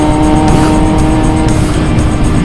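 A 600cc big bike accelerates hard past on the road, a loud, close engine roar with a sustained tone filling the whole moment, no voices.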